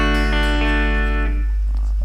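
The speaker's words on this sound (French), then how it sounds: "Je vais lui rajouter une petite reverb pour lui donner de la vie, un petit peu comme s'il y avait un ampli qui sonnait dans la pièce." Clean electric guitar played through a Korg AX3000G multi-effects unit with room reverb, a sustained chord ringing loud and close before decaying into a soft reverb tail.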